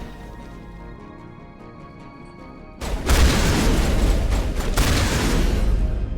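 Shotgun blasts from the video game Mass Effect erupt after a quiet stretch, a loud, dense burst of booming fire that keeps roaring to the end.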